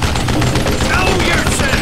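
Rapid gunfire in Call of Juarez: Gunslinger, a dense burst of overlapping shots rattling loudly and continuously through the short stretch.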